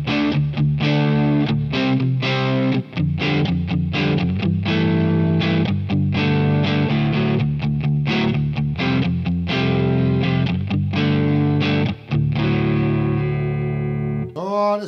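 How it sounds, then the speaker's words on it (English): Electric guitar played through a Demon FX King of Drive pedal in distortion mode, with controls at noon, gives dense distorted chords and riffs in rhythmic bursts, loud and alone without talk. "First, we'll have a look at the distortion side."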